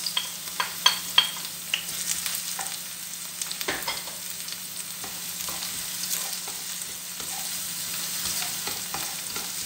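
Garlic sizzles in a pan for a turkey kaldereta, a close steady frying hiss broken by a few sharp pops and stirring clicks near the start.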